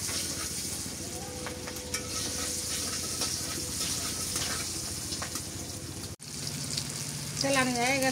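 Oil sizzling steadily in a pan before greens are added for a small silver carp dish, a close constant hiss with a short break near the end, and a voice joins briefly.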